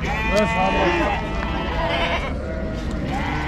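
Lambs and sheep bleating at a busy livestock bazaar in Uzynagash, wavering calls overlapping close by while people talk over the crowd noise.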